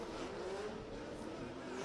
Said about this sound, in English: using all the power in that S14. Listen to the screams of it.